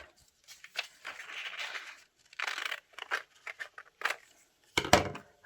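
Scissors cutting out a paper image for a small collage card, close, quiet snips and crisp paper rustles in short irregular bursts with pauses between them.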